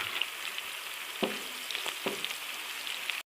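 Tadka of browned cumin, garam masala, onion and red chili frying in hot oil, a steady close sizzle with a few sharp crackles and stirring scrapes, alone without voices, ending abruptly.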